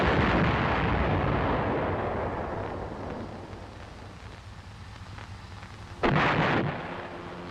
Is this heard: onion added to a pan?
no